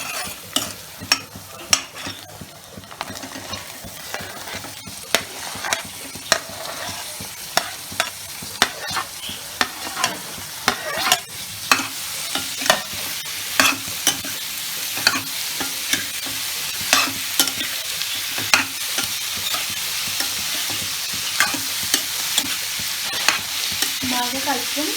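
Cucumber pieces stirred into fried onions in a pan: a continuous sizzle under repeated sharp scraping and tapping of the spoon against the pan, fairly close and regular for the whole stretch.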